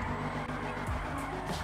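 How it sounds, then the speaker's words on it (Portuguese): Engine roar with squealing tires as a car slides through a drift in the video game FiveM, steady and loud, with a few sharp high screeches near the end. "esse carro, mano, manda muito drift"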